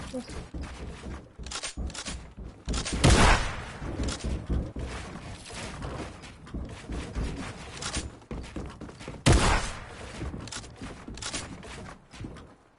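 Gunfire in a Fortnite duo arena match: a couple of sharp, loud shots stand out against a busy game soundscape while players talk over it.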